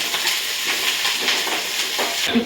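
A handful of drumstick leaves wilts in a hot pan with a steady, close sizzle and hiss that carries on evenly and alone, with no talking over it.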